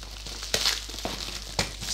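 Plastic protective foil wrapped around a book parcel crinkles and rustles as it is unwrapped, with a few sharper crackling bursts standing out over a quiet room background.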